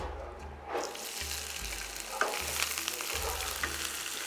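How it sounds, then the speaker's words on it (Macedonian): Chopped onion frying in about 1.5 decilitres of heated oil in a small pan, a steady close sizzle with faint stirring scrapes and a low hum underneath. "ќе го ставам кромидот да се пропржи"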